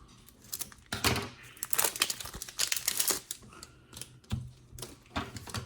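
A Press Pass trading card pack wrapper crinkles and rustles while being cut open, in uneven bursts of close crackling foil with short pauses.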